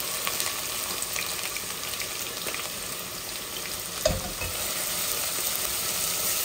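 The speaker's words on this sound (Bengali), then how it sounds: "তেজপাতা আর জিরাগুলা অল্প একটু পেঁয়াজ দিব" Onion sizzling in hot oil with bay leaf and cumin, a continuous close hiss of frying with a brief clink of stirring near the middle and no voices.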